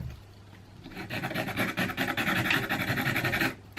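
An electric nail file drill grinds against an acrylic nail, a continuous close, rasping whir that starts after a brief pause, holds steady with fine gritty texture, then cuts off near the end.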